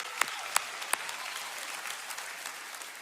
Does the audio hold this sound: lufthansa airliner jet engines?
no